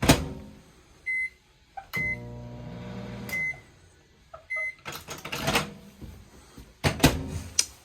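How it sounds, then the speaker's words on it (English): A microwave oven in a Salem FSX 161 QKX camper trailer beeps several times, with door clunks and button presses, then a humming run with clatter and handling noises. "Microwave."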